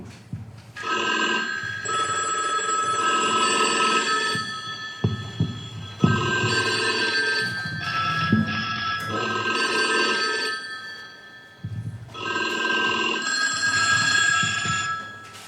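A telephone ringing sound effect: a bright electric bell rings in repeated long bursts separated by brief pauses, loud and close with nothing else over it.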